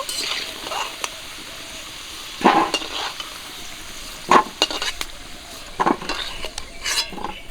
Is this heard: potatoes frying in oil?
yes